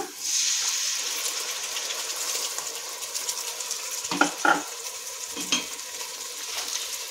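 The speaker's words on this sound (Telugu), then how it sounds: "ఇప్పుడు ఇందులోను చింతపండు రసం వేసుకుందాం కొద్దిగా" Tamarind juice poured into a hot frying pan for a Karnataka girmit masala, with a steady sizzle and a few soft stirring scrapes near the middle, no talking.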